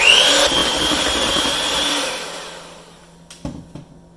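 An electric mixer whirs loudly through chocolate cake batter with milk and sugar, running steadily for about two seconds before winding down, followed by a few clattering knocks.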